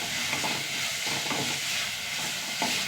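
Ginger is sautéed in a pan, giving a steady, close hiss of frying with faint stirring scrapes woven through it for about three seconds.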